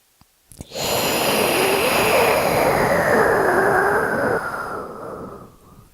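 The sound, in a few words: breathing, inhaling and exhaling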